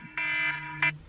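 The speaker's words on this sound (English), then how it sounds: "Sorry, that was my alarm." An electronic alarm goes off in short bright beeps, two loud bursts about half a second apart, heard alone indoors.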